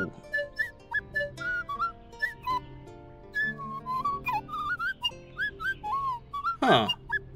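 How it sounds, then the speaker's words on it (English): A bright, warbling whistled tune serves as a wake-up alarm in the medieval rat game Tails of Iron, with short rising and falling phrases repeating over a quiet background and ending in a sharp, loud burst. "Oh, that's my alarm clock right there"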